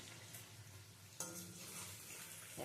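Capsicum fritters fry in oil in a pan over low-to-medium flame, producing a faint, steady hiss and sizzle that swells slightly partway through, with no talking.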